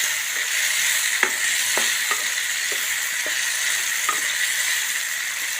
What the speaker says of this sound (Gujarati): આપણે દ્રાક્ષ શેકાય છે